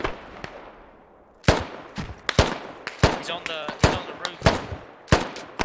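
Enemy gunfire in a squad-based shooter on irregular forces, with a burst of loud, sharp shots after a quiet start, fired in uneven clusters with echoing tails, while a voice speaks briefly.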